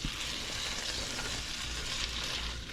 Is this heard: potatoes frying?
yes